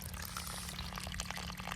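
Water trickling steadily from a drip irrigation line laid under plastic mulch in a trial watermelon plot, emitters spaced 30 cm apart; a continuous close splashing wash with no talk.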